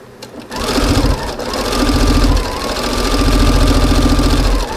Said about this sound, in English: now watch me stitch this. See, it's just a nice straight seam.